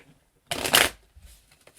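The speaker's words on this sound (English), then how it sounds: "We'll do a quick shuffle." A deck of tarot cards gets a quick riffle shuffle, one loud close burst of fluttering card edges lasting about half a second, followed by a few soft taps.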